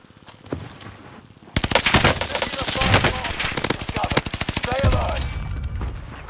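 Rapid automatic gunfire fired through a wall in Call of Duty Warzone, loud dense bursts of machine-gun shots with scattered single reports, under occasional game sounds.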